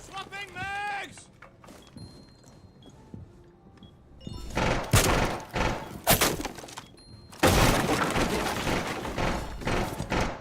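Impact grenade breaching a wall in Rainbow Six Siege: after a quieter stretch with brief knocks, loud shattering, crunching blasts hit in several bursts and debris keeps rattling heavily to the end.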